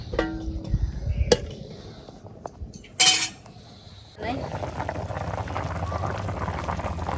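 A lid goes onto a cooking pot of village-style chicken with taro: scattered metallic clinks, then one loud clank, followed by a steady simmering hiss, with a voice heard at times.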